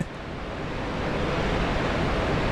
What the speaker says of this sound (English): Sounds like a waterfall right now.